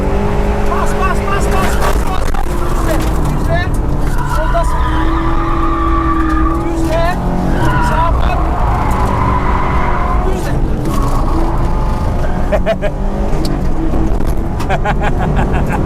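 A Subaru rallycross car engine revs hard and drops off repeatedly, with bursts of acceleration and braking on a slippery track while someone shouts instructions in Turkish over the noise.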